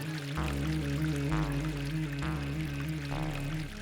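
Water pours or runs steadily at a household tap, a continuous close splash and rush heard beneath loud tonal background music.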